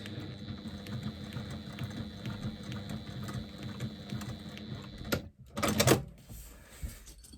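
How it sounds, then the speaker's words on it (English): A sewing machine runs steadily in a close, even mechanical whir while stitching a seam on a woven lambda-pattern bag, then stops and gives way to a short handling clatter. "So I'm literally stitching at 1/8 of an inch within the seam allowance."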